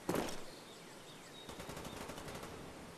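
An FN FAL rifle fires in the video game Call of Duty Black Ops, one sharp close shot followed by a quick rapid burst of rounds, fairly faint overall, with no voices.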